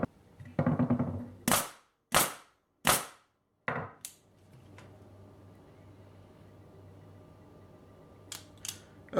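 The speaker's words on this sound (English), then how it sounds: "And then we're going to try the continuous fire." Ridgid finish nailer firing in continuous fire mode: five sharp, loud nailing cracks spaced about half a second apart, followed by a quieter stretch with a few softer clicks near the end.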